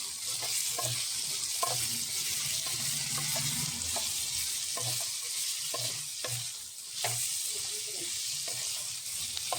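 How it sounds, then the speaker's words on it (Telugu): Snake gourd pieces fry in hot oil in a pan, with a steady soft sizzle and repeated scraping stirs of a spoon, close by and without talk. "ఇలా పొట్లకాయ ముక్కల్ని కూడా ఆయిల్లో అయితే కొంచెం వేగనివ్వాలి"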